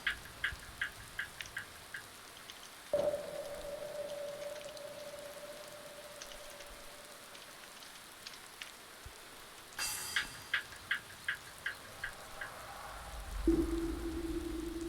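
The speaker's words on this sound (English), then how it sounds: "It's always raining, it seems, when I do this start" Rain falling in Skyrim, a steady soft patter of raindrops with sharper drips ticking at intervals and a few tonal game sounds layered over the quiet wash.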